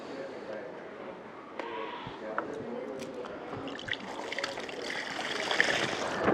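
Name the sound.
water being poured into a mixture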